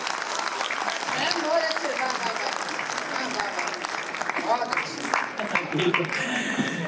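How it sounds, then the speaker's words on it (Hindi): Sustained audience applause at a Hindi poetry recital during an all-India kavi sammelan, dense steady clapping filling the room with a few voices calling out over it. "तालियां थोड़ी सी बढ़ाइए, आपकी बहुत अच्छी है।"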